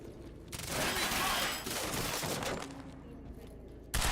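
Sustained bursts of gunfire from the video game Quantum Break, loud and dense for several seconds, then easing into quieter battle noise before a sharp final burst.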